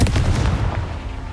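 A Confringo blasting spell erupts in Hogwarts Legacy, a short heavy burst of rumbling, booming explosion that fades quickly, with no voices over it.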